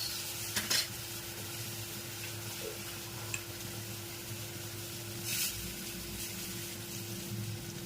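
Chutney and turmeric tempering in hot oil for a bitter gourd dish, a soft continuous sizzle with occasional clinks of a spoon against the pot and a short louder stir, close, no talk.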